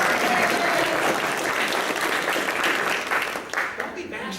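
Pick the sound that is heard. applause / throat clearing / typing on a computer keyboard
applause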